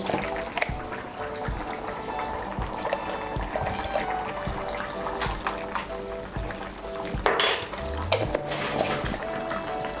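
A spoon stirs ghee and garam masala powder into besan dhoka curry in a pot, producing scattered clinks and scrapes of metal against the vessel over a low kitchen background.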